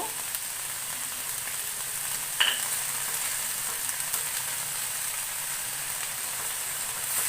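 Prawns frying in a pan with ground tomato paste being added, a constant soft sizzle broken by a brief splatter and light stirring, close and alone without speech.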